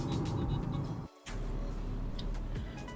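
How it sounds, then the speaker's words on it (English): Tata Punch manual variant driving along, a steady broadband engine and road rumble with a brief dip in the middle, close and continuous with no talking. "we're driving the manual variant of the Tata Punch now"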